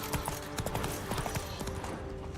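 Hooves of Roach, Geralt's horse in The Witcher 3: Wild Hunt, clip-clopping in a quick, steady rhythm, near and moderately loud with game ambience beneath.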